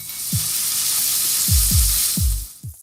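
Onions and tomatoes frying in oil in a pan over high heat, a loud continuous sizzle with a few soft low thumps as the pieces shift, close by and without talk.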